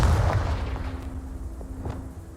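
Confringo blasting spell in Hogwarts Legacy erupting in a heavy boom that fades into a low rumble, with a few sharp cracks and pops afterward and a steady faint hum underneath.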